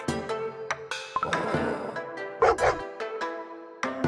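A puppy yips, barks and whimpers in short bursts, fairly close and loud, with a brief clink partway through.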